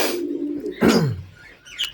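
Pet pigeons in a home loft in the morning give deep, close cooing calls, one long sweeping coo rising and falling, with a fainter chirp near the end.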